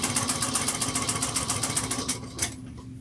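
A sewing machine runs a back stitch, a fast steady needle clatter at close range that stops abruptly near the end and gives one final short burst, with no talking.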